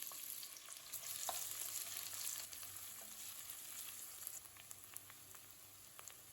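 Quiet, steady sizzling and crackling of thinly sliced onions frying in a pan for paneer vegetable biryani, with soft scattered pops and occasional stirring.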